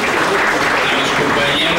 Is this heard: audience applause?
yes